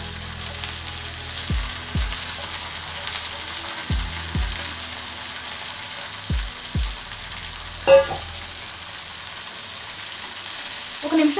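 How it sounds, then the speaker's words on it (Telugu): Dried fish pieces frying in a pan for a tamarind-leaf dry fish curry, giving a steady soft sizzle with a few low clunks and knocks against the pan. "ఒక నిమిషం ఫ్రై చేస్తే దీంట్లో ఉన్న నీచు వాసన అంతా పోయి చేప ముక్క గట్టి పడుతుంది"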